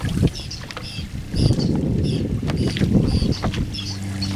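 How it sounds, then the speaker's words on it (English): Steady wind buffeting the microphone at an offshore ocean fish cage where milkfish are fed, a broad low rumble with gusts, mixed with water lapping and faint high clinks, continuous and fairly loud throughout. "there's about a 10-mile-an-hour wind here"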